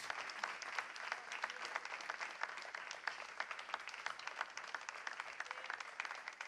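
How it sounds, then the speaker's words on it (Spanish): Church congregation applauding, dense steady clapping with distinct individual claps heard at moderate distance, sustained evenly without voices on top. "querem dar um aplauso ao Senhor Jesus Cristo?"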